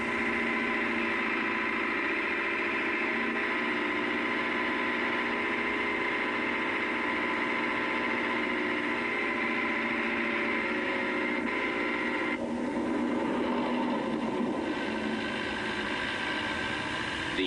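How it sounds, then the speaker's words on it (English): A 70 horsepower Leyland 384 tractor pulling a five-furrow plough, its engine droning steadily and loudly throughout with a constant low hum. "The 70 horsepower 384, pulling a 5-furrow version of the same plough,"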